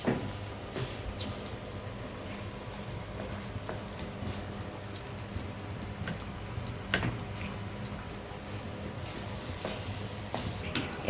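Jackfruit seed paste frying in a pan for halwa gives a steady, close sizzle and crackle with occasional scraping stirs, running continuously without talk.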